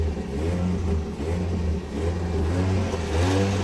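A Toyota Yaris engine, its immobilizer fault repaired, revs up and down a few times, a loud, close mechanical roar rising and easing in pitch, with no talking.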